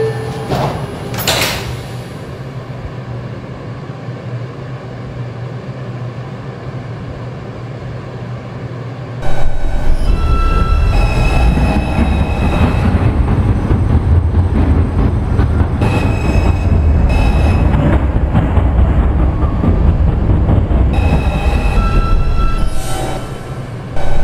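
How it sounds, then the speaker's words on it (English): Subway train in a Roblox game set on a 7 line run toward Vernon Boulevard: a brief door thump, then a loud steady rumble of the train pulling away with rising motor whine and rattling, no talk. "Stand clear of the closing doors, please."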